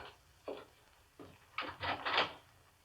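A door sound effect from an old-time radio mystery drama: a few separate wooden clunks and a latch rattle, then a longer creaking, scraping burst as the door opens, fairly close with no voices.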